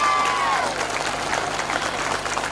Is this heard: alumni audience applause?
yes